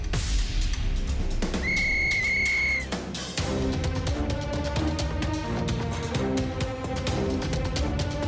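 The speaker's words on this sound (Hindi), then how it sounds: "सीटी बजाते ही रेस शुरू हो जाएगी।" In a cartoon, a whistle is blown to start a race: two shrill, sustained whistle blasts come in quick succession, set over busy music and sound effects.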